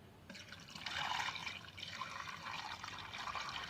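Mixed blue plant spray liquid is poured into a container with water, a steady close splashing trickle lasting a few seconds.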